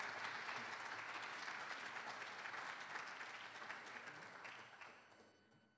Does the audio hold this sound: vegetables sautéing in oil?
no